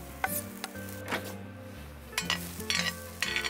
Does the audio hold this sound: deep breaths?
no